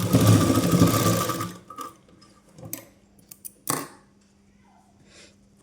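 A sewing machine stitches a six-piece petticoat in a short, loud run that stops abruptly, followed by scattered clicks and fabric handling noises.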